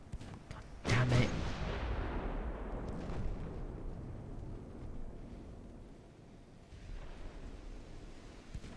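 Naval gunfire from warships in Ultimate Admiral: Dreadnoughts: a heavy, booming main-gun blast followed by a long rumbling decay, with fainter distant thuds after it.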